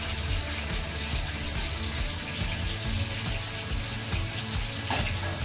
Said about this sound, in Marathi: मिरच्या टाकल्यात आता तेलात